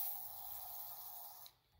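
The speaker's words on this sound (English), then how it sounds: "spray it down the cylinder hole" Penetrating oil spraying from an aerosol can down the cylinder hole of an old, dirty Mac engine, a steady close hiss lasting about a second and a half before cutting off.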